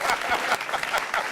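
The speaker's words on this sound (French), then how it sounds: "On va applaudir pour toutes les femmes qui ont un front." A studio audience breaks into applause, a dense patter of many hands clapping at close range, brief and lively without a break.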